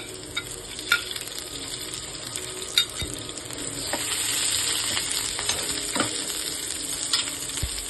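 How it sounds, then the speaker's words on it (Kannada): Mutton pieces frying in a pan for a home-style pepper fry, a steady sizzle with occasional sharp clinks and scrapes of stirring, close and moderately quiet, with no talking. "ಇದು ನೀಟಾಗಿ ಫ್ರೈ ಮಾಡಬೇಕು. ಇವಾಗ ಹಸಿಮೆಣಸಿನಕಾಯಿ ಹಾಕೊಳ್ಳೋಣ."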